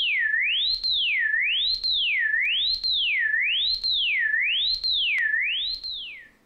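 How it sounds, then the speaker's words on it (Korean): Siren-like pure sine tone sweeping smoothly up and down in a regular repeating cycle about once per second, each sweep broken by a brief silence gap that sounds like a skipping record needle, clean and isolated. "어떤 사이렌 같은 게 이렇게 주파수가 높아졌다 낮아졌다를 부드럽게 반복하는데 중간에 끊기는 소리"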